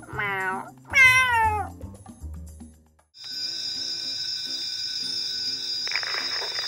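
A person imitates a cat's meow during play with a Playmobil fire station set, giving two rising-and-falling meows. A steady, ringing tone follows that holds to the end.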